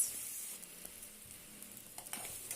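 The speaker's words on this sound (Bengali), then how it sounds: "নুন দিয়ে ভাজা করছি" Onion and garlic fry with salt for chicken noodles, a faint, hissing sizzle with a few soft stirring taps near the end, quiet and without speech.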